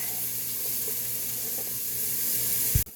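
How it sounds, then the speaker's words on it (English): A kitchen sink tap runs steadily as hands are washed mid-way through making butternut squash soup, a close, continuous hiss of water that cuts off abruptly at the end. "Now I'm going to go wash my hands."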